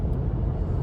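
A BMW F80 being driven, heard from inside as a steady low engine and road rumble with no distinct events and no talking.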